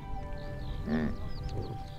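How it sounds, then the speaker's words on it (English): A yak in a mountain pasture gives a single short grunting call, fairly close and clear over a low steady background rumble. "Yaks don't moo, they grunt."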